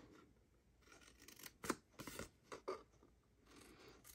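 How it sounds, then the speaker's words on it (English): Scissors snip score lines along the long side of cardstock for a cherry jam gift box, giving a few short, sharp cuts in an irregular rhythm at close range with no talking. "and on the long side, snip those score lines."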